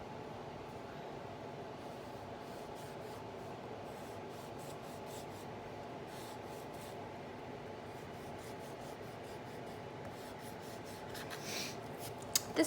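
A pencil draws lines on paper while boxes are being shaded, making a continuous soft, dry scratching that holds steady for several seconds and ends with a couple of light taps, close and quiet.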